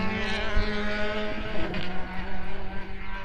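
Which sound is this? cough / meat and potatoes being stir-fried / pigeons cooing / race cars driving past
race cars driving past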